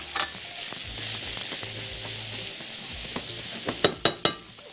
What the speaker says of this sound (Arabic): بحط عندي شويه من الزيت، بعد كده نقوم عندنا البصلايه المفرومه